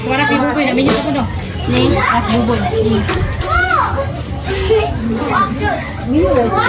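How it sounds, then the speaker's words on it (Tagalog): Children playing indoors at a New Year and birthday celebration in the province, a lively jumble of high voices, squeals and chatter that keeps up steadily at close range. "andito yung mga bata sa loob."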